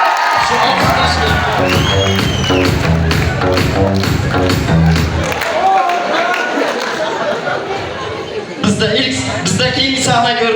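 Audience in a hall at a university rector's cup semi-final stage show applauds and cheers loudly, with whoops and chatter mixed throughout, a dense wash of clapping that thins briefly before swelling again near the end.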